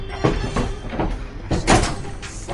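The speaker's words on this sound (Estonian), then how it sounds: "Ma lähen ukse lahti." A door is opened indoors, with a few clunks and a latch rattle, then a louder knock-like thud and a rustle, all close and moderately loud with no voices.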